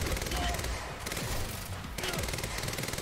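Rapid video game gunfire in Quantum Break aimed at an explosive barrel, bursts of shots with dull thumps, moderately loud over a busy game soundscape.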